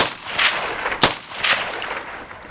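A single sharp AR-15 rifle shot cracks out near the middle, loud and close, with fainter impulsive bursts and ringing around it at an outdoor range.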